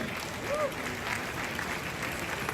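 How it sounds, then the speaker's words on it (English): An audience at Manhyia Palace in Kumasi applauds during a centenary celebration of the Asante king Prempeh I, a dense, even patter of clapping mixed with crowd murmur throughout. "Please, a round of applause for them."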